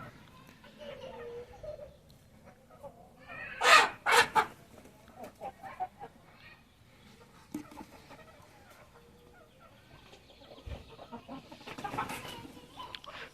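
Bhimavaram breed chickens cluck in a loud burst of two or three sharp calls near the middle, with softer scattered clucks and faint murmuring around them in a quiet yard.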